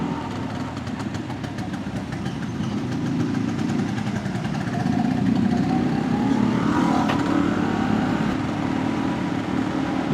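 A 1972 Vespa Super scooter's engine drones steadily while riding, a loud, continuous mid-pitched buzz that swells slightly partway through, with no talking over it.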